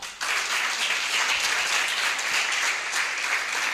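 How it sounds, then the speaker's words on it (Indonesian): An audience bursts into steady, full applause at an indoor event, the clapping starting abruptly and sustained loudly throughout. "Beri aplaus buat Unicorn."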